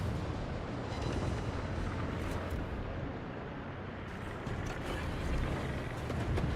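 Warship guns firing armour-piercing shells in World of Warships, heavy booming salvos rolling over a constant roar of battle, dense and continuous with no clear gaps.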